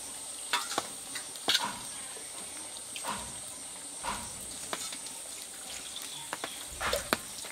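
A puffed rice snack piece fries in a little oil in the pan, producing a low steady hiss with irregular sharp crackles, faint and close up.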